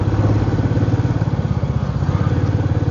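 A motorbike engine runs steadily while riding, a close, loud, rhythmic mid-pitched throb with a continuous chugging pulse and no speech.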